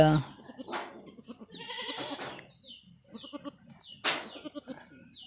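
A goat that has just given birth and lies tired licking her newborn kid bleats several times up close, with loud, wavering cries repeated every second or so.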